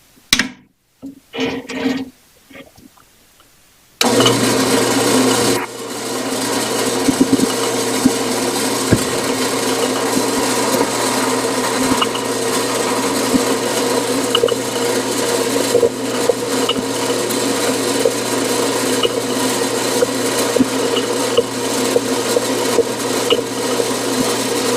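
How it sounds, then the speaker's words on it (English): After a few seconds of handling clatter, a power drill bores through a piece of metal, with a magnet catching the chips. It makes a loud, steady grinding whir for about twenty seconds. "We're going to drill right through the center of this hole,"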